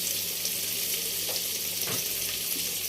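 Börek frying in a wok pan, a steady close sizzle of hot oil with faint clinks of handling, no voices.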